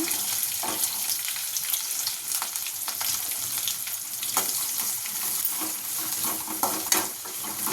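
Onion, green chilies and curry leaves fry in oil with mustard seeds and cumin for a puri curry, giving a steady close sizzle broken by frequent scraping stir strokes.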